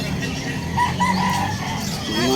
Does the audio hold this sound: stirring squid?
no